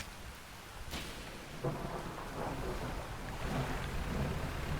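Rain and rolling thunder in the fishing game Dredge: a steady wash of rainfall with a thunder crack early on and softer rumbles after, fairly quiet and with no talking.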